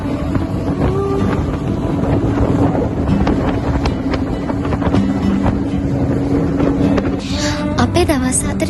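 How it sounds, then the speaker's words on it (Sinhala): Boat engine droning steadily on a sea trip to Paravi Island in Sri Lanka, with constant wind buffeting and water rush throughout, and faint voices under the noise. "බෝට්ටු යන ගමන නම් මාරම ජොලි."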